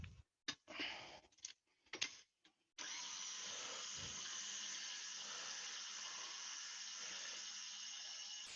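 Tap water runs into a mixture during Italian cooking. A few short clatters come first, then a steady, even stream of running water continues to the end.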